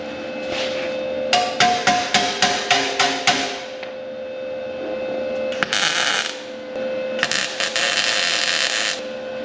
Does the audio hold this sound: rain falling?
no